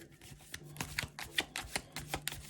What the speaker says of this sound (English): we're not going to shuffle too crazy